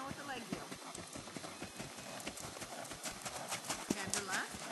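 A horse cantering on the right lead during a riding lesson, with steady rhythmic hoofbeats under nearly continuous instructor talk.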